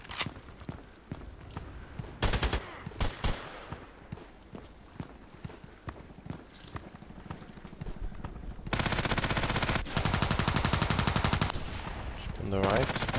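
Pump shotgun fire in the online shooter Contract Wars, mixed in with busy game noise, footsteps and a few sharp blasts, then a dense stretch of rapid gunfire toward the end.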